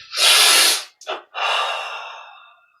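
A long, deep inhalation during a guided meditation breathing exercise: a strong airy rush of breath, a short catch, then a second long breath that slowly fades, close and alone with no talking.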